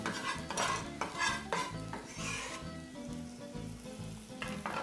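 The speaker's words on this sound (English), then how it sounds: "Saute your potatoes in that" Potatoes sauté in a hot pan, browning at the edges, with a steady loud sizzle and crackle running throughout under a tonal background.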